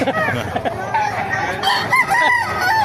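Roosters crow in loud, repeated cock-a-doodle-doo calls mixed with clucking at a gamefowl yard in Baliuag, Bulacan, with several birds overlapping close by.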